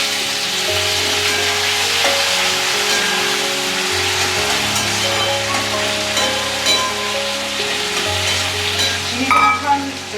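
Sugar-coated tomato hits browned onions in a hot pan for chicken curry, giving a loud, continuous sizzle with stirring noises over soft background music.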